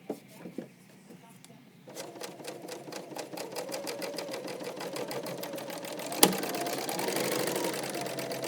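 A serger sewing machine stitches cropped jeans after a few soft handling knocks, then settles into a rapid, even mechanical chatter that runs steadily to the end, close and fairly loud.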